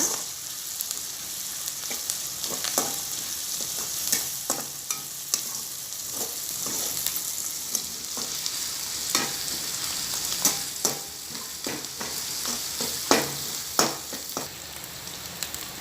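Idli manchurian stir-fried in a pan with ginger-garlic paste, a steady sizzle of frying under repeated scraping and stirring strokes, close and moderately loud, with no talking.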